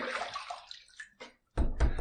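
Water splashes and runs close by as a razor is rinsed at a sink, a steady gush followed by two short bursts of splashing.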